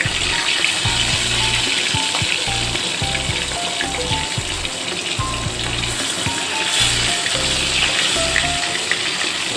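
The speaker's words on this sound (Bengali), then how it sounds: "তেলটা গরম হয়ে গেলে এবার আমি মাছের মাথাগুলো দিয়ে দিচ্ছি।" Hilsa fish heads sizzle and crackle in hot oil in a wok, a close, continuous frying hiss with occasional spits and pops.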